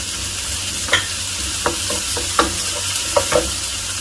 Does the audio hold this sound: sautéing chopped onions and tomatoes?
yes